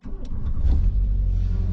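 A car engine running steadily just after a jump-start with a booster under the hood, a continuous low rumble holding at a constant loud level for the whole moment, with no voices.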